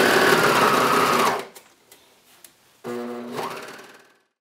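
A sewing machine runs a swimsuit seam, whirring loudly and close for over a second, stopping briefly, then starting again for another short burst before winding down.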